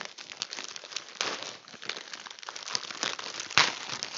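Plastic packaging around a LEGO Marvel Sanctum Sanctorum instruction booklet crinkles and crackles close by as it is opened, in soft irregular rustles with a sharper crunch near the end.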